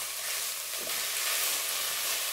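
Chicken frying with mixed vegetables, capsicum and chopped green chillies, for a chicken vegetable macaroni: a steady close broadband sizzle runs throughout, with a brief stirring scrape near the middle.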